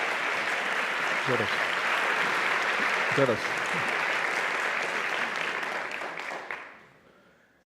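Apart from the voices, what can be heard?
audience applause welcoming the Education Minister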